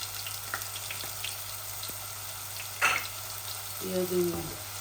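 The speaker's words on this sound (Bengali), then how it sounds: "এখন আমি এই টকের মাঝে ছোট একটা রসুন দিলাইছি টকের মধ্যে। আস্তে আস্তে রসুনটা লাল হয়ে যাক" Garlic fries gently in a sour rohu fish curry, a faint continuous sizzle with a few soft clinks, a brief louder scrape near the middle and a short tonal clatter toward the end, no voices.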